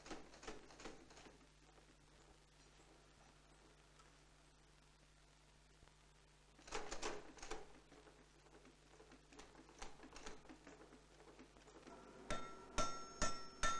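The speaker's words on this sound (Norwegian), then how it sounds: "smir han ut underlepet med maskinhammeren og kappa vekk overflødig material med en meisel" A mechanical power hammer works an old axe head during forging, shaping the lower lip in a smithy in Fagernes; quiet stretches give way to bursts of heavy, rhythmic blows that grow louder and denser toward the end, with no speech.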